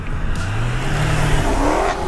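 A Jaguar F-Type V8 sports car engine rises in pitch as it revs and accelerates, a loud, continuous throaty roar close by with no talk over it.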